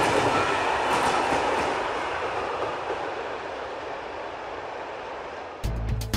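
A train on the Trans-Siberian railway between Vladivostok and Khabarovsk runs with a continuous rolling rumble and faint rhythmic clatter that slowly eases, before an abrupt louder change in the noise near the end.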